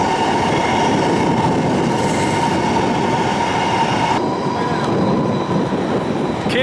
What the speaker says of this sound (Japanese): 輝かな、 北陸新幹線ですね。